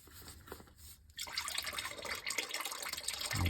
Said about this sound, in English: Let it drain out a little bit.